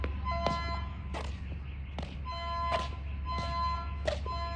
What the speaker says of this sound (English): The alarms are going off everywhere.